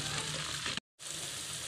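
Dry coriander fries in hot oil, a dense, loud sizzle that cuts out abruptly for a moment and then resumes just as strongly.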